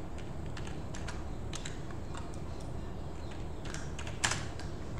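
Fingers tap steadily on a computer keyboard, with quick irregular key clicks over a constant background hiss and one slightly louder strike near the end, and no talking.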